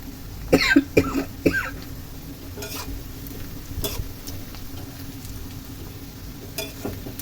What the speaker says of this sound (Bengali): এভাবে অনবরত নাড়তে হবে নাহলে জিরা আর যে কালো জিরা দেওয়া হয়েছে এ দুটা পুড়ে যাবে